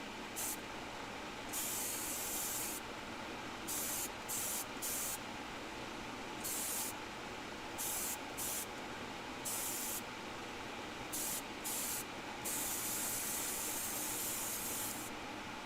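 An airbrush sprays Timbertech paint as a close, continuous airy hiss, with the sharper spray hiss cutting in and out in short and longer bursts throughout.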